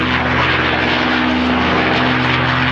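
A P-51 Mustang propeller plane in flight at an air show, its piston engine roaring loud and close with a steady droning hum and a whistling edge, continuous with no talk.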